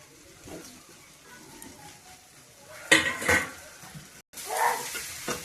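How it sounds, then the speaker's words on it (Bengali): A spatula stirs egg around a cooking pan, soft scraping and light clinks of metal on metal under a faint sizzle, growing louder and busier toward the end with a brief pause. "এই ডিমটা দিয়ে এবার ভালো করে নাড়াচাড়া করছি"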